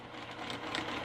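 A sewing machine runs steadily, stitching a mitered corner on a quilt border in one brief, even whir.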